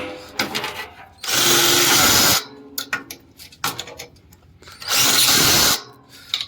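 A power tool tightens bolts on a solar panel cleaning robot, whirring in two loud sustained bursts of about a second each, with clattering handling noises between them.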